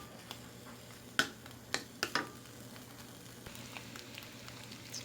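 Bacon sizzles and crackles in a frying pan, a steady low fry broken by a few sharp pops and spatters near the start, with no talking.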